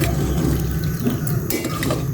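Water poured into a cooking pot of seasoned broth with pepper and vinegar in a farm kitchen, a steady, close, continuous splashing rush with no talk.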